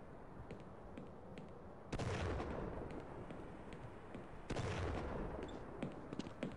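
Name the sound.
shotgun firing in Half-Life video game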